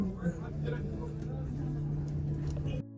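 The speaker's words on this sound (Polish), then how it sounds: "Autobus powoli opuszcza Jerozolimę." A bus pulls slowly out of Jerusalem, its engine giving a steady low hum with road rumble inside the cabin while people talk nearby, until the sound drops off abruptly at the end.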